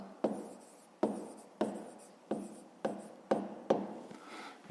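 A pen scratches across paper during a fifth-grade maths exercise, six quick, sharp strokes in an even rhythm, each one fading out, close and alone.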